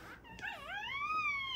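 Bully breed dog whimpering close by, one drawn-out high whine that bends down and then rises, alone and fairly quiet.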